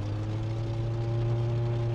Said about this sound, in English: Listen to the lovely burble of the engines.